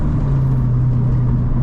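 A Toyota GR86's naturally aspirated engine pulls on throttle with a steady, loud, low droning hum heard from inside the car, no talking.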